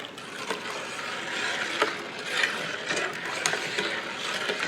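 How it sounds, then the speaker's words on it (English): Peach pit jelly is stirred in a pot, producing a steady, close clatter of scraping and rattling under a bubbling simmer, continuous throughout with small louder knocks. "Just going to stir it and make sure that we don't have anything to stick"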